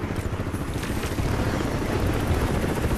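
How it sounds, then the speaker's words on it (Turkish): A helicopter in the video game Crysis 3 gives a steady, loud, close rotor thump and engine roar that grows slightly stronger as it approaches. "Ha, helikopter geliyordu burada."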